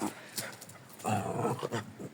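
A dog on a village homestead makes soft whimpering, growly vocal sounds at close range in short bursts, with someone talking and laughing around it.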